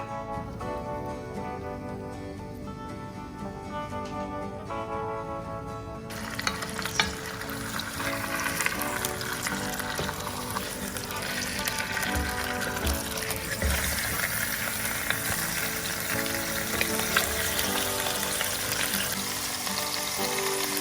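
A leg of lamb searing in olive oil in a pot gives a continuous loud sizzle and spatter, with music-like tones early on before the frying hiss fills everything.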